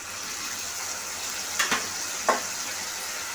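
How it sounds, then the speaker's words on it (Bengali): Water goes into spice paste frying in a pan for egg curry, giving a steady hiss and sizzle with a couple of brief splashy bursts. "মশলাটা আমার ভালো করেই কষানো হয়ে গেছে, এবার পরিমাণ মতো জল দিয়ে নেব।"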